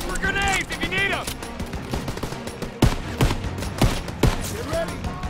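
Gunfire in Call of Duty WWII, with sharp rifle and machine-gun shots cracking in rapid bursts amid battlefield noise, while soldiers shout over the shooting.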